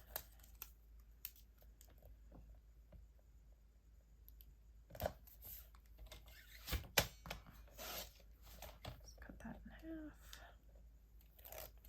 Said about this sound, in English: And I'll cut this section.